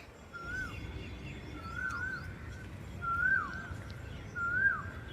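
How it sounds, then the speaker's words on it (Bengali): Asian koel calling outdoors, four clear rising whistled notes repeated at roughly even intervals, moderately distant over a soft steady background hum. "কোকিল ডাকছে,"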